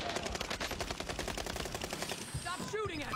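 Rapid video-game gunfire, dense bursts of automatic shots rattling throughout, with a player's voice faintly in the mix toward the end.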